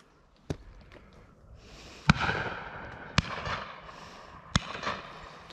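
Shotgun shots at driven pheasant on a Herefordshire syndicate shoot, four sharp bangs spaced irregularly, the middle ones trailing into a rolling outdoor echo.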